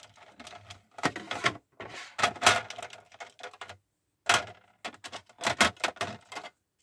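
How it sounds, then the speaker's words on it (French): A box of colour ink pads is pried open, producing quick bursts of close plastic clicks and rattles in uneven clusters, with short pauses between. "Si j'arrive à ouvrir la boîte."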